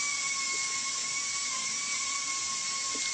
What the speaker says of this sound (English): He's still buffing out the rings, which will shine beautifully when the trophy is completed.